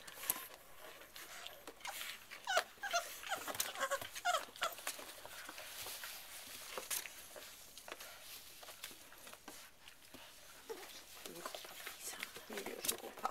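Bullmastiff puppies eating puppy mush, wet lapping, smacking and squishy chewing with soft whimpers, close and busy, while a person talks over the feeding.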